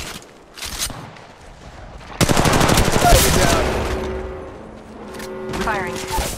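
Gunfire in the Apex Legends Mobile game breaks out as a dense, loud automatic burst midway through, after scattered softer shots, then fades into game effects and a rising electronic whine.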